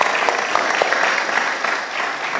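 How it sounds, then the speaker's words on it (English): Audience applause at a contemporary church service, a dense, even burst of many hands clapping close by. "Give them a round of applause,"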